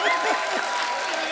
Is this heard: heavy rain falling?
no